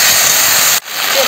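Water poured onto spices frying in a pan for a thin singi fish and potato curry sends up a loud, close, broadband hiss of steam that cuts out briefly and then surges back.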